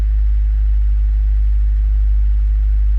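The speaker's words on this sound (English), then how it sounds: "if the noise that we'll hear is the throwout bearing, the WRX 2016" A 2016 Subaru WRX engine idles steadily at close range, a low, constant rumble with a faint mechanical whir that may be a suspected throwout bearing noise, with no voices.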